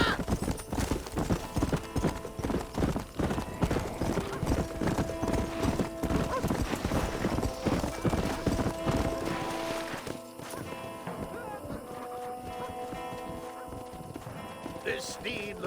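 Horse hooves clip-clop at a rapid gallop in the Red Dead Redemption video game, loud and close, with a whinny and game voices over the galloping before the hoofbeats give way to quieter ambience near the end.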